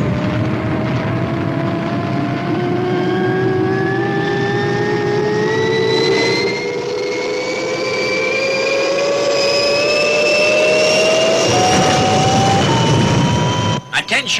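The Fireball XL5 spacecraft takes off as a TV sound effect, a loud, continuous jet-like roar with tones that climb steadily in pitch for over ten seconds before cutting off abruptly.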